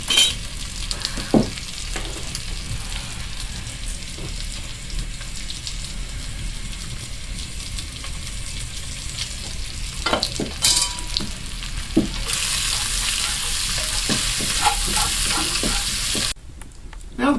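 Bacon potato chowder in a pot bubbles and hisses on a high tripod close to an open cabin fire. The crackle is broken by occasional knocks, and the hiss swells louder late on before briefly cutting out.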